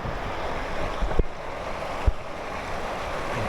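Water flowing through a channel at San Pedro de Atacama: a steady, close rush of water with wind buffeting the microphone and two brief low thumps, no voices.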